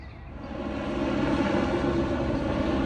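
Helicopters pass overhead above a market street, a steady droning engine roar that swells from moderate to loud within the first second and then holds evenly, with no talk.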